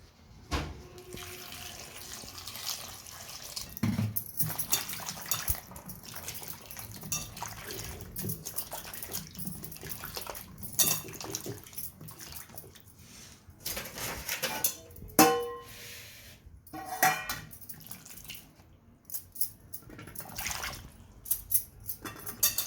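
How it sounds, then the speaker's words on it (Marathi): Water splashes and sloshes in a basin as mushrooms are rinsed by hand to remove soil, with irregular swishing and dripping bursts throughout. "आता हे आपल्याला मशरूम 3 पाण्यामध्ये धुवायचे आहेत."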